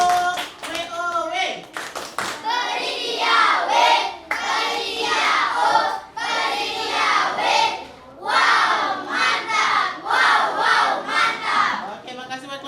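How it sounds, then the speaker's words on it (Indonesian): An audience claps and cheers for group 3 at a training session, lively crowd applause with shouts and whoops rising and falling over several seconds, voices mixed in. "Tepuk tangan buat kelompok 3."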